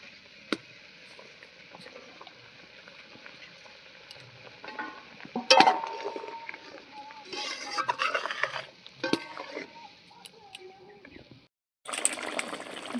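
A spoon scrapes and stirs through a simmering cabbage gravy in a pan after fried fritters go in, giving soft intermittent scraping, light bubbling and a few sharp clinks against the metal.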